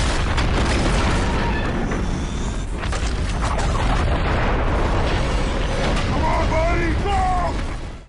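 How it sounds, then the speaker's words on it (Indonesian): A bomb goes off inside a building as a movie sound effect, a loud sustained rumbling blast with crackling debris and mechanical rattling that holds steady for about eight seconds before cutting off. "bom di gedung itu meledak karena alat penangkal sinyalnya mati"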